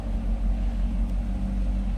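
A 2012 Chevrolet Corvette Grand Sport V8 idles nearby, heard from the rear, with a steady, deep burbling rumble, low and even throughout.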